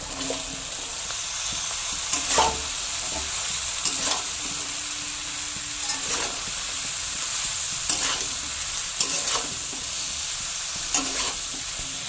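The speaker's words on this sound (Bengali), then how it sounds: "ঝিঙা ভালো করে কষিয়ে নিয়েছি।" Chopped ridge gourd sautéing in a pan, giving a steady sizzle broken by regular scraping stirs about every two seconds, close and clear with no talking.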